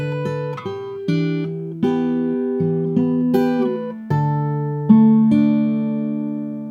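A lone acoustic guitar picks the second section of a song's intro, a sequence of bright plucked notes and sustained ringing tones, close-miked with no talking.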